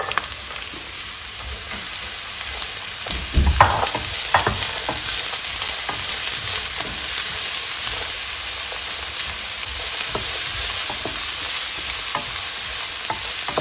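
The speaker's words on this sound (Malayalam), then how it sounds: "ഉള്ളി മൂത്ത് കഴിയുമ്പോൾ നമുക്ക് അരിഞ്ഞു വെച്ചിരിക്കുന്ന മത്തനിട്ട് കൊടുക്കാം" Chopped young pumpkin tipped into a pan of frying onions and dried chillies, a thump and clatter as it lands, then a steady sizzle with intermittent scraping and stirring close by.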